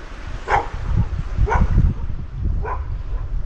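Several dogs bark in short separate bursts, three main yelps spaced about a second apart over a low rumble of running floodwater from an overflowing river, fairly close.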